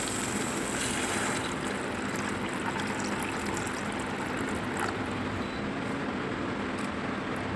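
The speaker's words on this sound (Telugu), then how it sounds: "ఇప్పుడు వాటర్ యాడ్ చేసుకుంటే" Water is poured into tomato rasam whose tomatoes have cooked down very soft, making a steady, continuous rushing splash that fills the whole stretch with no talking.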